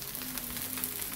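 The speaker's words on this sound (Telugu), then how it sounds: "కాస్త ఒక 2 నిమిషాలు దోశ వేగాక అప్పుడు ఆయిల్ వేసుకోవాలి" Dosa batter frying on a hot pan, a steady close sizzle with soft crackle running evenly throughout, no voices.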